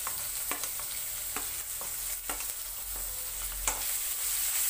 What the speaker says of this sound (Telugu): ఇప్పుడు దీనిలో మనము ఆనియన్స్ కరివేపాకు పచ్చిమిర్చి